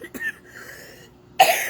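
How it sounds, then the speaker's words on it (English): Sharp coughs from a person speaking indoors: a short burst at the start, then a louder, harsher cough near the end after a quiet pause. "Sometimes you just have to cough and get it out."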